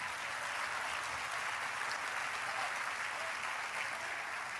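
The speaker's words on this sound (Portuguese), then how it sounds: "Aplauda o Senhor Jesus." Steady, continuous applause from a church conference crowd, dense and sustained throughout without a break.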